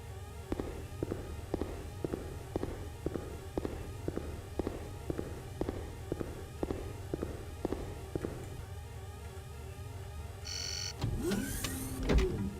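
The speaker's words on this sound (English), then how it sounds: "it's hard not to want to rush with a beautiful sound like this alarm" A regular electronic alarm pulse in the video game The Journeyman Project ticks steadily for about ten seconds, then a burst of louder clattering noise at the end.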